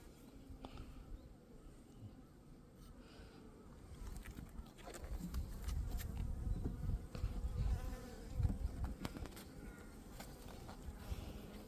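Honeybees buzz steadily around an open beehive during a food-store inspection on a warm day, a dense continuous drone close to the microphone, swelling slightly in the middle, with no talk.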